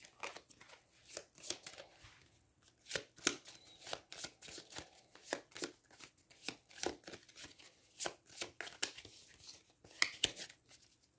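A deck of cards from a solo game of Aeons End 2nd Edition being shuffled by hand, a steady run of quick, crisp riffling bursts close up, with no talking.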